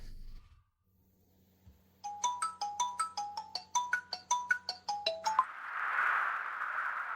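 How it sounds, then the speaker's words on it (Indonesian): An incoming work call sets off a phone ringtone, a bright melodic run of about fifteen quick chiming notes in a rhythmic pattern that cuts off into a soft hiss, with no voices. "Ada telepon kerja masuk."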